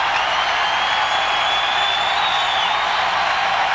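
A hockey crowd at a Calder Cup game roars continuously after a Hershey Bears victory, a loud, unbroken wall of cheering and noise from a large arena audience.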